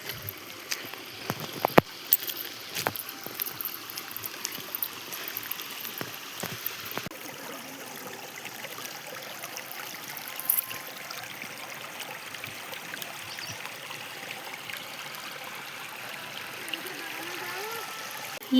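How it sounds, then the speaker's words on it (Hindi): A river at Gheti near Garur in Bageshwar, Uttarakhand, flows as a soft, continuous rush of water with scattered light clicks and knocks over it, faint and steady throughout. "ये है घिटी की नदी"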